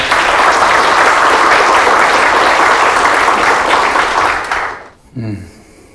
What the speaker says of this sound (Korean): 모두 박수를 한번 쳐주시죠